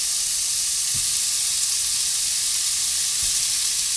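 Turkey sausage dropped into hot oil in a single pan, giving a loud, even, close hiss of frying that runs throughout, with two faint low knocks from the pan, no voices.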